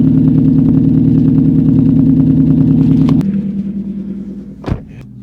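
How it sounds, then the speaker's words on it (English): Lexus IS-F V8 engine on a cold start, loud and close with a steady high idle for about three seconds, then dropping to a lower, smoother idle with a brief knock near the end. "Get you guys a nice little cold start."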